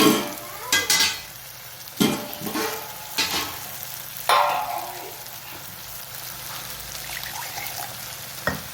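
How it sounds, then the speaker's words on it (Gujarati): Gravy is poured into a hot pan for matar malai methi, giving a loud sizzle burst followed by several sharp stirring scrapes and clinks as the hiss settles into a softer simmer. "હવે એના અંદર નાખી દઈએ આપણે આ ગ્રેવી."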